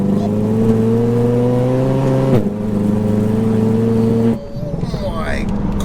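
A 900bhp front-wheel-drive Seat Leon Cupra accelerating hard in second gear, its engine note climbing in a loud, rising drone, then a sharp gearshift break and the pitch climbing again, close and dominant.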